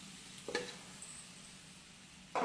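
Biscuit dough dropped into hot oil, giving a soft steady sizzle with a couple of brief bursts of bubbling as pieces go in, fairly close and with no talking.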